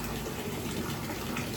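Water siphoning out of a fish tank filter tank in a tilapia setup, a steady gushing, bubbling flow that stays continuous and fairly close without pauses or talk.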